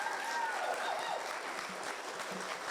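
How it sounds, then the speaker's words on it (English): Applause from an audience for a school principal at an elementary school ribbon-cutting ceremony, a steady, moderate wash of clapping that holds evenly throughout with some faint voices mixed in. "Can we just give her a huge round of applause?"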